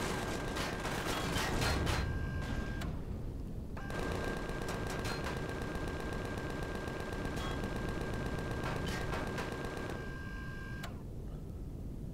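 Rapid automatic gunfire in the sci-fi survival game Empyrion Galactic Survival, sustained bursts of dense, steady firing with a short pause near the three-second mark before the shooting resumes and carries on loudly.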